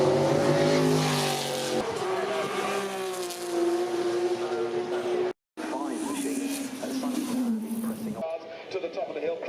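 Alex Zanardi's racing car screams up the Goodwood Festival of Speed hill in 2016, engine note rising and falling through gear changes as it passes near and loud, with a commentator talking over it.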